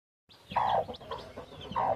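A hen clucks close by near newly hatched chicks, giving a few short, fairly soft calls in uneven rhythm with quiet background between them.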